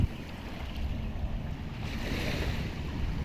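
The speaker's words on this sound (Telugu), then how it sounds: "అలలు అయితే డేంజర్గా వస్తున్నాయి స్పీడ్" Ocean waves at Kudle Beach in Gokarna, a steady rushing wash of surf that swells slightly, mixed with rumbling wind buffeting the microphone.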